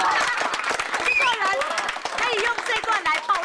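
Audience applause at a Hakka singing show: a broad clapping wash runs throughout, mixed with a voice talking or singing over it.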